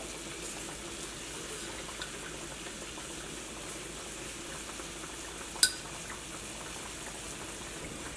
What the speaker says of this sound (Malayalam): ഇനി നന്നായിട്ടൊന്ന് തിളക്കട്ടെ.